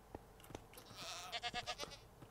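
Goats in Minecraft bleat faintly in a short cluster of wavering cries, preceded by a few soft clicks.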